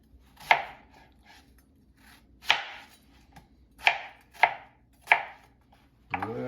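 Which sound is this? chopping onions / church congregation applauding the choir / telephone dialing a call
chopping onions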